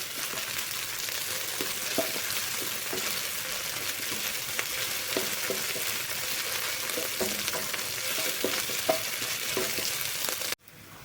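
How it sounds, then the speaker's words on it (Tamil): Ginger garlic paste sautéing with onions in a pan for a carrot and potato stir-fry, a steady close sizzle with scattered stirring scrapes throughout, cutting off abruptly near the end. "இஞ்சி பூண்டு பேஸ்ட் பச்சை வாசம் போகிற அளவுக்கு வணக்கிக்கோங்க"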